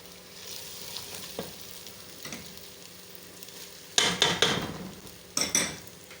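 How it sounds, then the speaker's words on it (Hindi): Chicken with masala frying in a pan makes a low steady sizzle. A spoon scrapes and clatters against the metal in a few sharp bursts near the end. "थोड़ा सा इसको भूनें ताकि इसकी अच्छी सी खुशबू आए"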